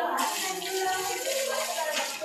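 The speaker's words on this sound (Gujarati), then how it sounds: "બટેકા ડૂબે એટલું પાણી નાખવાનું" Water poured into a cooking pot over potatoes, a continuous splashing gush that stays fairly loud and even for the whole moment, with no voices over it.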